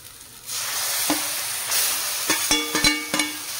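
Banana flower frying with spices in a pan, a steady close sizzle with stirring clatters and scrapes toward the end.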